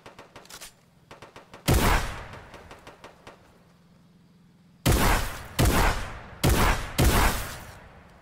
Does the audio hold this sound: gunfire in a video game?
yes